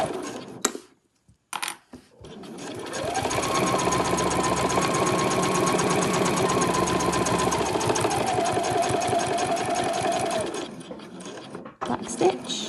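A sewing machine stitches the card pockets of a travel wallet in one long, even run of rapid mechanical clatter lasting several seconds, with brief handling knocks before and after.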